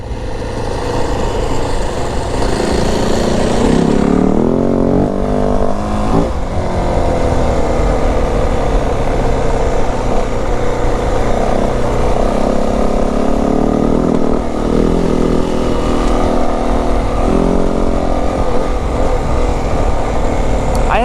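A 2025 Yamaha WR450F dirt bike engine runs and revs while being ridden, a loud, close four-stroke roar that rises and falls with the throttle throughout, no talk.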